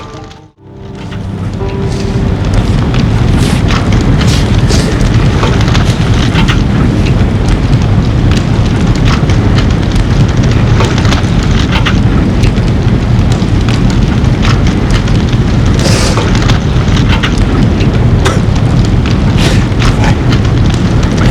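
A crashed car burns in a TV drama scene, a loud, continuous roar of fire and rumbling blast noise that swells in after a brief quiet start and holds dense and heavy throughout, with no voices.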